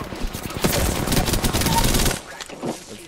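Rapid automatic gunfire in the shooter game Apex Legends: dense, loud back-to-back bursts rattling for about two seconds, then cutting off into near quiet.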